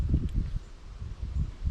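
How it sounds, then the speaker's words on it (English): Strong gusty wind buffeting a microphone outdoors during tenkara fishing for catfish and fliers, heavy low rumbling bursts rising and falling, close and loud with no talking. "It's very windy."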